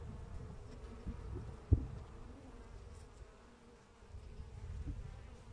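Carniolan honey bees in an open hive giving a steady low buzzing drone, close and continuous with slight swells, with no talking.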